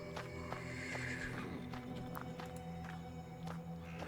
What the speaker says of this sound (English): Из конюшни доносится обеспокоенное ржание станционной лошади